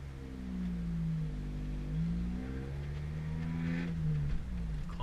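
A manual stick-shift car engine hums at a steady mid pitch. It rises and dips in short waves as the revs climb and drop through gear changes, heard from inside the car with no talking.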